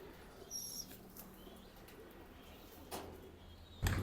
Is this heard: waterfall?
no